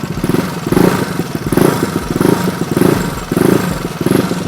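Motorcycle fitted with a K'Race standard racing exhaust, revved repeatedly in close, loud bursts with a rough, throaty pulse and rattling between blips.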